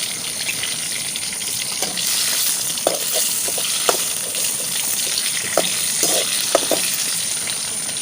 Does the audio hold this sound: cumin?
yes